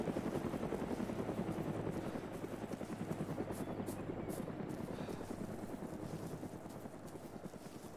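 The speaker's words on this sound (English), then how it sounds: "Chopper!" Helicopter in the military simulation game ARMA, a steady rapid rotor thump close and loud, gradually fading slightly over eight seconds with no talk.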